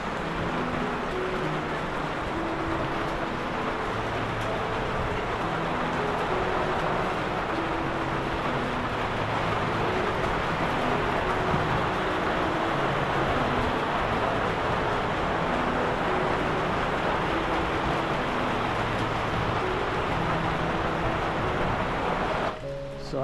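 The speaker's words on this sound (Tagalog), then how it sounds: "Ulan nga lang mga kalingap." Rain falls steadily in a continuous dense hiss for over twenty seconds, evenly loud and unbroken, with no voices.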